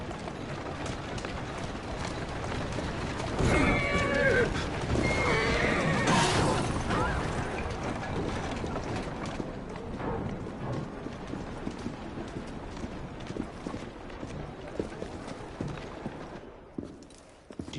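A horse whinnies loudly in Assassin's Creed Syndicate over a steady background of hoofbeats and ambient noise, the neigh standing out briefly before fading into continuous movement sounds.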